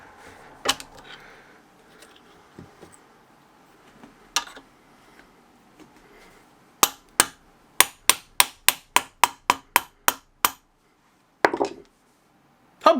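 A hammer taps a CV joint into place, sharp metallic knocks starting as a few scattered hits, then a quick even run of about a dozen taps and a couple more blows at the end, close and clear.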